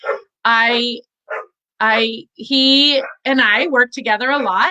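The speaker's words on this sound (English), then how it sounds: "I don't know if you can hear my dog barking." A pet dog gives a series of loud, close, tonal barks and yips in uneven bursts, with short gaps between them, while a person is talking.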